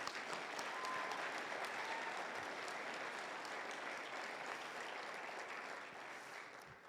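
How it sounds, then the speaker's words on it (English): Sustained applause from an audience at a community meeting about the Tunnel Fire, dense and steady across the whole stretch and fading slightly at the end, fairly soft and heard from a distance. "give a round of applause for our Title III incident team"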